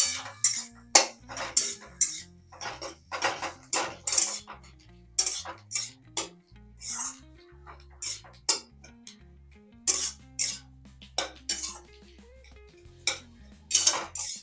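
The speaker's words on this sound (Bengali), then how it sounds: "এবার আমি ধনে পাতা কুচোটাও দিয়ে দিচ্ছি সবগুলো একসাথে ভালো করে নাড়াচাড়া করে নিচ্ছি" A metal spoon stirring a dry pastry filling with chopped coriander in a pan, giving repeated sharp scraping clinks in an irregular rhythm, close and alone.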